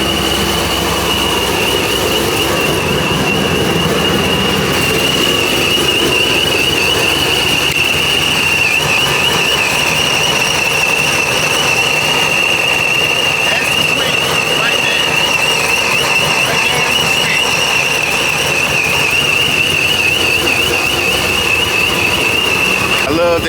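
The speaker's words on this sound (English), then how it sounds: "I love that supercharger whistle." Supercharged C6 Corvette engine running with a steady high supercharger whistle held throughout, over a dense, loud mechanical rumble.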